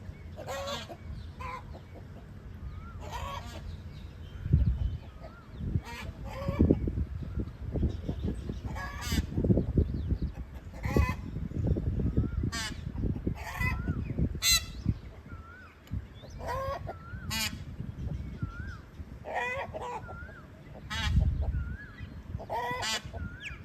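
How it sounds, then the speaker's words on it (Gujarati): A rooster and a peahen squabble with repeated harsh squawks, honks and clucks in bursts, scuffling and flapping underneath, the calls close and irregular over roughly twenty seconds. "મારો કુકડો ઠેલ બાથે કુકડો ઠેલ બાથે"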